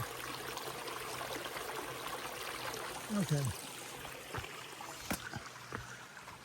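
Small mountain stream trickling steadily as a faint, even wash of water close by on a hiking trail, with a brief spoken word and a few soft thumps partway through.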